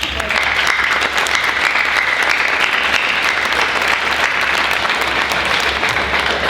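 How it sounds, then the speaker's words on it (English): Sustained audience applause at a community talk on nonviolence, dense and steady throughout, loud and close with no speech over it. "And I just think you need an applause."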